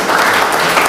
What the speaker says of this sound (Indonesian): Berikan sorak-sorai buat Kudus.